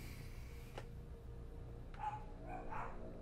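A dog barks a few times at a distance, short muffled yaps over a low steady background hum, with no one talking.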